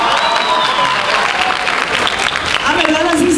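A comedy-show audience applauds steadily at a comedian's stand-up performance, a dense wash of clapping and crowd noise with faint voices and a tonal sound rising near the end.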